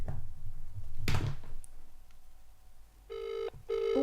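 A telephone rings twice in short, bright electronic bursts during a prank call. A louder clack comes just before the rings against a quiet room.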